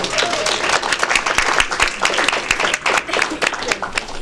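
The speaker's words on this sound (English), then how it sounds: "Give yourself a round of applause." An audience at a community education event gives itself a round of applause: lively, uneven clapping with distinct individual claps, continuous and fairly close for a few seconds.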